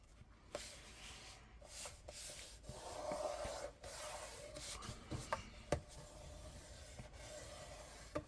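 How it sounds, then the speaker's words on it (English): A sheet of paper being folded over for a wedding album, with soft close rubbing and creasing sounds and a few sharp taps, quiet and intermittent. "I want to fold over this piece here"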